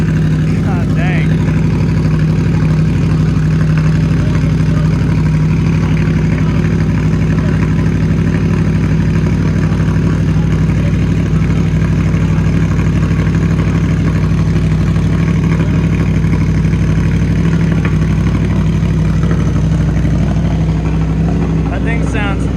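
An Audi R8 engine fitted with a new catback exhaust runs at a steady idle, its low rumble loud and close throughout while people talk over it.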